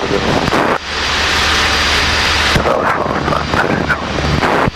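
A light aircraft engine drones loudly and continuously in flight over heavy wind rush, with a brief dip in the noise early on before the steady roar returns.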